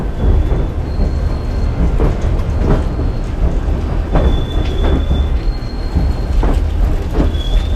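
A scenic railway train in Skagway, Alaska rumbles steadily along the rails with a low, continuous roar, punctuated by faint, thin metallic squeals of the wheels as it slows.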